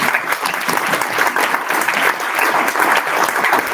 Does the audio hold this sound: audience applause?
yes